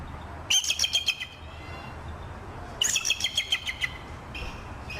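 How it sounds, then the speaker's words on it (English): A bald eagle gives two bursts of high, thin, chattering call notes, each a quick series of piping chirps about a second long, with a fainter third call starting at the end over a soft outdoor background. "This is the sound a bald eagle really makes."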